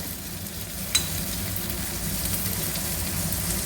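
Curry leaves and onion fry in hot oil, giving a steady, loud, close sizzle that runs throughout, with one brief clink near the start.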